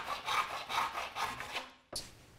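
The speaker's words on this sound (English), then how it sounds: "and that's what I'm drilling out here." Rhythmic rasping strokes of a drill cutting into a wooden dowel, four or five passes close by, ending with a sharp scrape.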